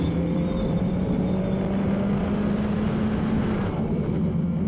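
Race cars from a Formula Regional Americas race at Circuit of the Americas roar past in a steady, loud engine drone, with a faint higher whine rising near the end.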